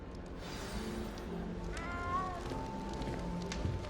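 Cat meowing in the Hogwarts Legacy video game, a single rising-falling meow near the middle, heard over a steady bed of game ambience and background music.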